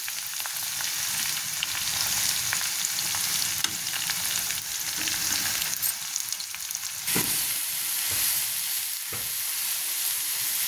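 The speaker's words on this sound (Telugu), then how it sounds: "ఇప్పుడు కట్ చేసి పెట్టుకున్న బీరకాయ ముక్కలు కూడా మనం వేసేసుకుందామండి." Ridge gourd pieces fry with onion in a pan for a milky ridge gourd curry, giving a steady close sizzle broken by scraping stirs and a few sharper clatters near the end.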